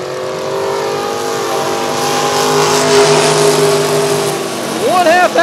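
Race cars towing trailers roar around Rockford Speedway during a trailer race of destruction, several engines droning loudly and steadily close by, with one rising and falling in pitch as it passes near the end.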